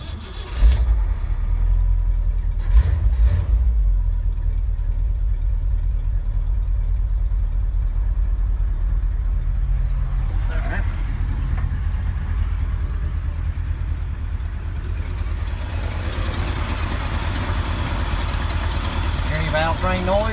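A Ford 390 V8 engine idles cold with a heavy, steady low rumble for the whole stretch, loud and close, with a few brief valve-train clicks and a faint hiss from a slight exhaust leak later.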